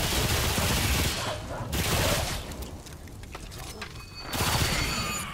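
Gunfire from a gun in the video game Remnant 2, dense bursts of rapid shots in loud waves that ease off and return, with voices talking over parts of the action.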